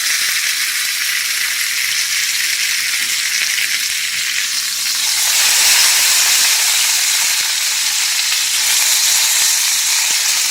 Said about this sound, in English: So I'm going to flip this thing up and brown it a little bit on its side.